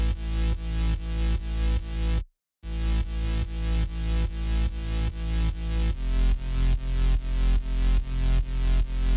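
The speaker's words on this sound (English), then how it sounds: "It's this sub bass that a friend sent me one day" Gritty sub bass synth playing a steady repeating pattern of punchy low notes with a rough, buzzy edge, briefly cutting out to silence before resuming, loud and alone without voices.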